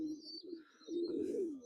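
A young Khulna chot pigeon coos in two close, throaty rolling phrases with a brief pause between, clear and alone without speech.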